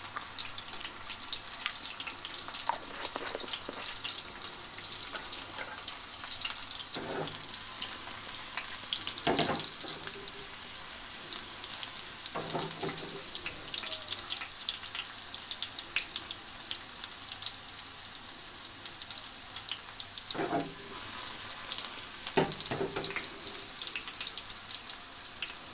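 Green garlic leaves fry in a ghee tempering with asafoetida for a bajra kadhi, giving a steady close sizzle throughout with occasional stirring clatters and scrapes of a spoon in the pan.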